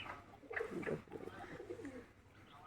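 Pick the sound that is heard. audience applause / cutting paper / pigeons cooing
pigeons cooing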